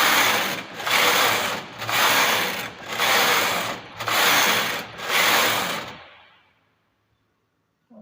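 A knitting machine runs a lace punch card pattern in six loud carriage passes, each a rushing mechanical rattle broken by brief pauses, before stopping into silence.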